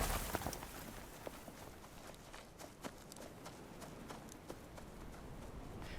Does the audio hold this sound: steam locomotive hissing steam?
no